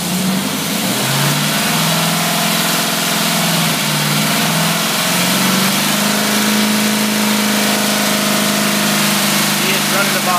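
A Predator small engine with a carburetor runs after being cranked, its loud, close drone rising and settling in pitch as it revs and then holds a steady run.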